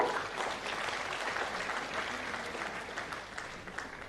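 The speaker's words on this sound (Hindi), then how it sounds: "तालियां आपकी ओर से जोरदार हो।" Warm, continuous applause from a seated audience at a government appointment-letter distribution ceremony in Jharkhand, fairly distant and sustained for about four seconds.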